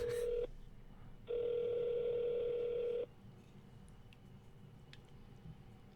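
Telephone ringback tone on an outgoing call: a steady electronic tone sounds twice, first briefly, then for about two seconds after a pause, with quiet background hiss and faint clicks afterward.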